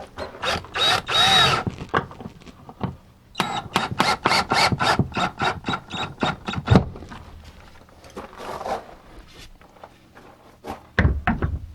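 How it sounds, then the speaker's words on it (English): A power drill drives a screw into a wooden garden-tool rack, with a run of short, loud whirring bursts in quick succession and a pause between groups, followed by softer handling knocks. "And then just screw it in."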